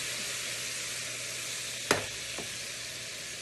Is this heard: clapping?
no